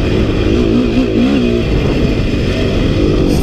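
A dirt bike engine revving loudly up close after shifting up a gear, a continuous strong drone whose pitch rises and dips as the throttle changes.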